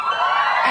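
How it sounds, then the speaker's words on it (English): Studio audience cheering and whooping at a live talk event, a short loud burst of mixed crowd voices and shouts with no single speaker standing out. "you don't have to cheer for that"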